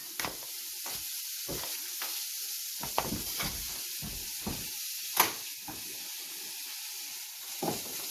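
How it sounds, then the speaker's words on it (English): Vegetables for potato salad stirred in a hot pan, a steady sizzling hiss broken by a dozen or so short scraping, clattering strokes at an uneven rhythm, close and moderately loud with no talk. "I'm just going to mix everything in until it is well incorporated"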